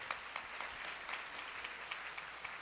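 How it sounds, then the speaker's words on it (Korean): Steady applause of encouragement from a church congregation during a Sunday young adults' worship service, a dense even patter of many hands clapping with no talking over it. "격려의 박수 부탁드릴게요."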